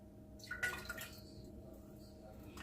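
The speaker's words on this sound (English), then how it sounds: "first we're going to add to the pot 1 cup of vegetable broth." Vegetable broth poured from a container into a cooking pot, a short soft splash and trickle close by that fades quickly into quiet room tone.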